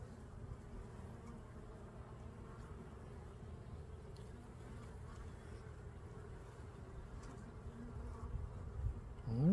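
Honey bees buzz steadily around hive frames during a hive check after a five-frame move, a dense low drone that stays loud and continuous throughout and swells near the end.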